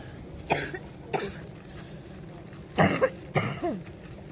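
Several sharp coughs, two single ones early, then a pair of harsher bursts close together, near and fairly loud against a quiet background.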